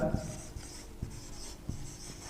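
Someone writes the word flower on a board during a lesson, making soft, steady scratchy strokes in a few short bursts, close and fairly quiet, with faint low knocks in between.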